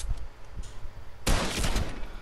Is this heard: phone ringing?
no